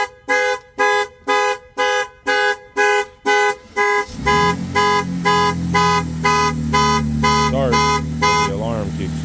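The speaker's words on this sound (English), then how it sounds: "The alarm keeps going off." The alarm on a 2025 Ram RHO 1500 pickup blares loud, evenly spaced horn honks about twice a second, then changes to a continuous wavering siren tone with rising and falling sweeps near the end.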